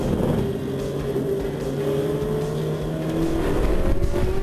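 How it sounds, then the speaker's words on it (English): A Ferrari Challenge race car at the Shanghai circuit sweeps past with a loud, sustained engine drone that swells and shifts pitch slightly, heard up close and alone. "Tanny Hanna's number 157 car went past Eric Chung and Wei Zhu"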